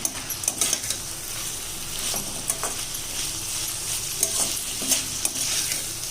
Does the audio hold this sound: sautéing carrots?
yes